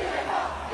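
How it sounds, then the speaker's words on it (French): A crowd gathered at Place de la République in Paris, a brief burst of massed cheering and shouting, loud and diffuse, with no single voice standing out. "une foule s'est rassemblée pour fêter la mort de Jean-Marie Le Pen, notamment place de la République à Paris"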